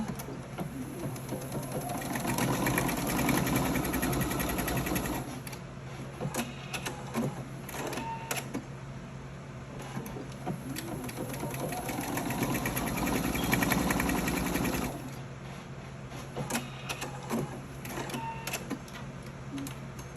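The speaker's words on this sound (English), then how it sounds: "you're going to sew it down. Back stitching as well." A sewing machine stitches a fabric bonnet, including back stitching, running in two loud sustained bursts with a steady mechanical whir and a short pause between them, then softer clicks and handling noises.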